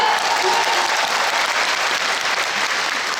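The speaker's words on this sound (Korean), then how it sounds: "여러분 박수 한번 주세요" Studio audience applauding at a KBS public broadcast taping, a dense, steady wash of clapping filling the room at full volume throughout.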